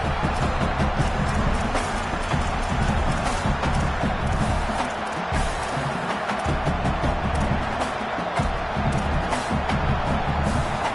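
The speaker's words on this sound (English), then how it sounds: "Now this home crowd making life difficult" A home crowd roars continuously at a college football game against LSU in a video game, a loud, dense wash of cheering that holds steady throughout the clip.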